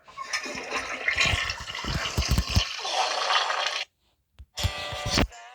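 A household toilet flushes up close, a loud rushing gush of water that runs for several seconds, cuts off abruptly into silence, then returns briefly as a short final surge.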